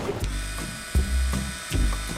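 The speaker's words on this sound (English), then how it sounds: "We're drilling into the workbench." A power drill set to a slow speed drives screws into a workbench board, giving short repeated whirring bursts with mechanical clicks, close and fairly loud with no talking.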